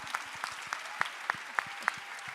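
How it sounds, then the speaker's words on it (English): Audience applause at a TEDxLondon event, heard as a steady crowd patter with sharper individual claps standing out in a roughly regular rhythm, moderately loud and close, with no talking. "Clap for yourselves."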